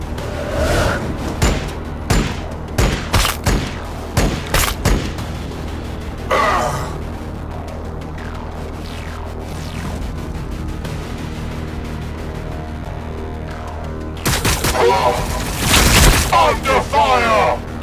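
Gunfire and explosions in Warhammer 40K: Battlesector, a strategy war game: sharp cracking shots and booming blasts land in irregular bursts, dense at first and again near the end, with a low rumbling bed between.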